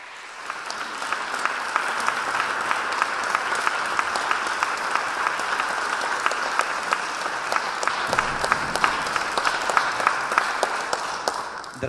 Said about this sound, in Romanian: aplauze pentru domnul profesor Dumitru Constantin Dulgan